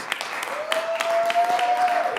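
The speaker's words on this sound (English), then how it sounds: "Let's give him another round of applause." Audience applause at a city ceremony honoring a youth soccer league champion, a short burst of many hands clapping with a whistle and cheering voices over it.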